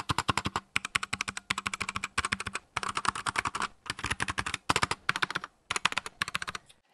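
Rapid typing rattles on a Keychron K6 keyboard with optical switches, dense bursts of scratchy key clicks coming in short runs with brief pauses, close and alone.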